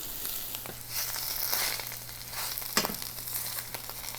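Chanterelle mushrooms fry steadily in a hot pan, a continuous close sizzle and crackle with occasional stirring, no voices over it.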